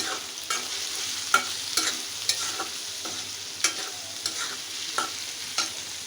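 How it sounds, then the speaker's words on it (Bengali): Dried fish (shutki) fries in a pan, a soft continuous sizzle broken by regular scraping stirs of a spatula, close and fairly quiet, with no one speaking. "আমি সবসময় সুটকি রান্নাতে এভাবে ভেজে নিতে চেষ্টা করি"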